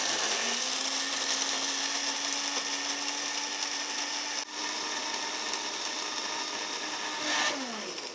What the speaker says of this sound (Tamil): இப்போ இந்த பிளெண்டரில் வந்து பொடி தான் பண்ண போகிறேன்